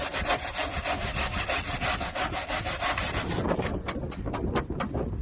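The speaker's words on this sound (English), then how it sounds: "What you need to know is wire brush it. Give it a good wire brush." A wire brush is worked over rusty body metal on a 1995 Rover Metro, giving a loud, close, rhythmic scratching of quick back-and-forth strokes throughout.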